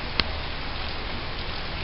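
Rain falls in a constant, even hiss, broken once early by a single sharp click.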